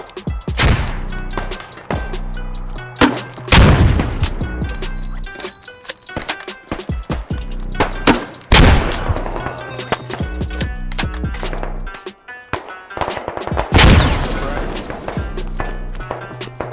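A frag grenade and gunfire during infantry combat in the video game Squad bring loud close shots and heavy thumping bursts at irregular intervals, with short pauses and voices talking intermittently between the blasts.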